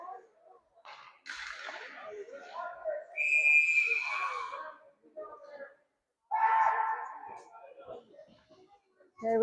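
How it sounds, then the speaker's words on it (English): A referee's whistle sounds at a youth ice hockey game in a low-roofed rink, one sharp burst in the middle. Crowd noise and rink commentary run underneath. "we got a whistle here"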